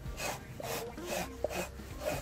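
A portable lint remover is scraped over a car floor mat to lift dog hair and sand, making repeated rhythmic rasping strokes, close and fairly quiet.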